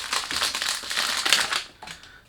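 A 100 ml Jaguar Excellence Intense eau de parfum box is unwrapped up close, giving a continuous run of crisp crinkling and crunching packaging noises that briefly fade before a final rustle.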